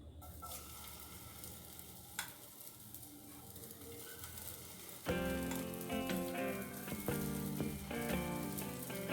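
Pancake batter hits hot oil in a pan on low heat. A faint background hiss swells halfway through into a louder, crackling sizzle that continues steadily with small pops, and no one speaks.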